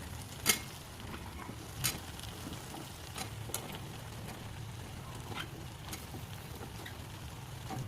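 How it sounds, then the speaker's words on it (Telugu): Ridge gourd pieces fry with tomatoes in a pan, a low steady sizzle under a few sharp clinks and scrapes of stirring, loudest near the start and fading to a constant hiss. "టమాటాలు ఫ్రై అయ్యాక ఇప్పుడు మనం చిన్నగా కట్ చేసుకున్న బీరకాయ ముక్కల్ని వేసుకుందాం."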